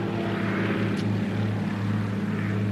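Propeller airplane droning steadily overhead at a wing-walking air show, a loud continuous engine hum with strong low harmonics throughout, no voices.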